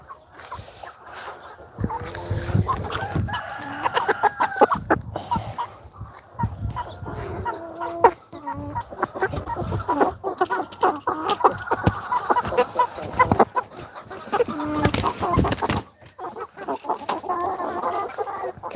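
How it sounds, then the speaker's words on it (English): Roosters and hens clucking and calling inside a coop, overlapping loud squawks and crow-like calls close by, with a dog-like bark or two mixed in. "Maybe I've got a lot more roosters in there than I initially thought."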